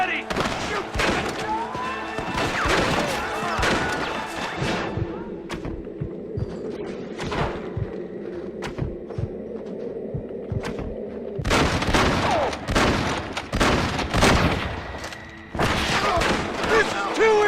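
Gunfire in the Red Dead Redemption video game crackles in repeated loud shots and booming thuds, coming in clusters with brief lulls, mixed with shouted character voices.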